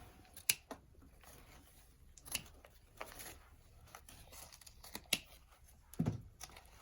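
Scissors snip the wire-and-fabric tails of a coral leaf and berry spring swag for a wreath or lantern, giving a few sharp separate cuts spaced a second or two apart in a quiet room.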